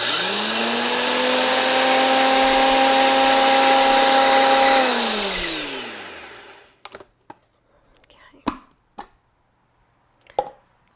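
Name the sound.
electric spice grinder blending apple pie spice powders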